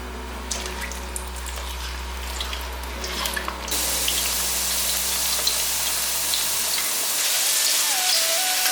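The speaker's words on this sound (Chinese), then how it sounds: "锅内热一些油，把香菇挤干水分放进来" Squeezed-dry shiitake mushrooms go into hot oil in a wok. A quieter, drippy stretch gives way to a loud, steady, hissing sizzle that fills the rest.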